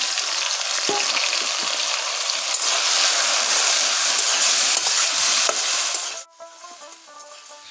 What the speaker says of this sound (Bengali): এই তেলটা দিয়ে সোয়াবিনগুলো ভাজবো